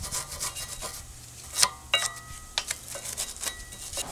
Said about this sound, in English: I'm just going to just use a little wire brush to clean off the caliper support bracket